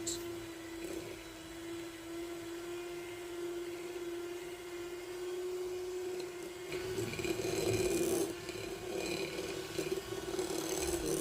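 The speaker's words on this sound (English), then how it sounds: "we're going to add 1/2 cup of sugar, and then I'm going to whisk until it's smooth" Soft butter and sugar being whisked for vanilla cupcakes make a steady, fairly faint whirring drone that continues throughout and grows slightly busier toward the end.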